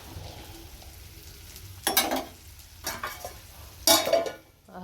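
Fish roe fritters fry in a pan, a soft sizzle running underneath as a few louder scraping, turning bursts come and go, close by and alone.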